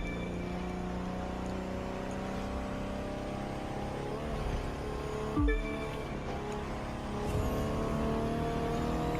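Hypercar from The Crew 2 racing at speed near 300 km/h, a steady sustained engine drone with a sharp burst of nitro boost rising briefly midway, close and loud throughout.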